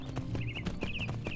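Horse hooves clip-clopping at a walk in the Skyblivion video game, an even run of light, close hoofbeats over a soft background hum.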